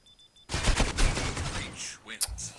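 A burst of rapid gunfire in the game Critical Ops, loud and close, with sharp repeated shots over about two seconds and a brief electronic chirp near the end.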